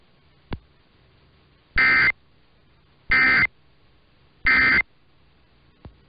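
Three short, identical buzzy data bursts of an EAS emergency alert test header sound at even intervals, loud and clean against near silence, with faint clicks at the start and end.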